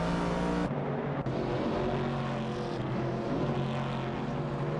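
Race cars in a racing video game, including a Ford Falcon and a Dodge Challenger, a loud continuous engine roar with shifting pitch as the cars accelerate close by.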